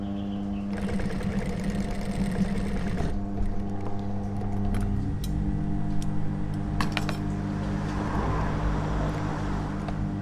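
A sewing machine stitches a new strap onto a bag in a fast whirring run near the start, then stops, leaving steady low motor hum and scattered small clicks and taps, with no talking.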